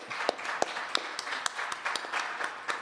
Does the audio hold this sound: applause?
yes